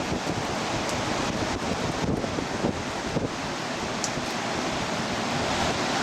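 Ocean surf breaking on a beach below a high vantage point, a steady broadband wash of rolling waves mixed with wind noise buffeting the microphone throughout, no talking.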